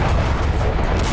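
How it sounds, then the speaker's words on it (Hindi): Heavy explosions from Russian air force bombing in Syria, a loud, dense rumbling blast filling the short moment with deep booming energy. "रूसी वायुसेना विध्वंसक बमबारी कर हयात के लड़ाकों को रोकने की कोशिश कर रही है।"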